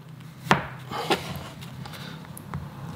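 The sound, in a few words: knife cutting a chocolate donut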